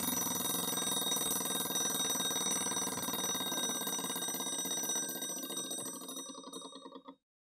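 A blue mechanical alarm clock rings with a continuous, bright metallic bell trill, loud and close. It holds steady for about five seconds, then fades and stops abruptly.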